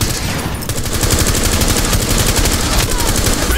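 Sustained automatic gunfire in Rainbow Six Siege, rapid rhythmic bursts running loud and continuous from start to finish, with faint player talk underneath.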